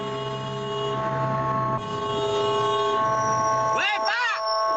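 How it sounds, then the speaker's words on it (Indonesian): A steady, loud tonal blare from an ambulance siren holds throughout, then two wavering ambulance horn blasts sound near the end as it pushes behind a sedan blocking its way, with traffic rumble underneath. "mobil ambulans yang sedang dalam situasi darurat membawa pasien ini terus membunyikan klakson pada mobil di depannya"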